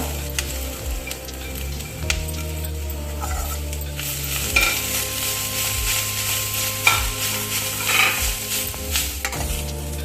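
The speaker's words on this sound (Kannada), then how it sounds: "ಇದರ ಜೊತೆ ಕಾಯಿ ತುರಿ ಕೂಡ ಹಾಕುವ ಅದನ್ನು ಕೂಡ ಸ್ವಲ್ಪ ಹುರಿಯುವ" Grated coconut roasts in a pan for coconut chutney, a spatula scraping and stirring in repeated strokes over a soft sizzle, close and fairly loud, with no talk.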